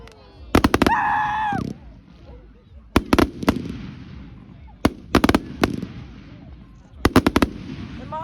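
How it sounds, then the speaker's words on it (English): Bonfire Night fireworks burst outdoors in sharp crackling volleys and single loud bangs, some close and some farther off, with a whistling rocket early on and a low background rumble between the clusters. "Imagine if you're trying to sleep, but these fireworks are just disturbing you."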